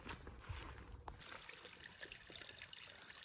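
A small creek trickling across a hiking trail on the Appalachian Trail between Hemlock Hollow and the Pigeon River, a steady close-up babble of running water with brief rustles, no talking.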